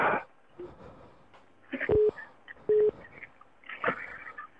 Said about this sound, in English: Somebody's trying to phone me.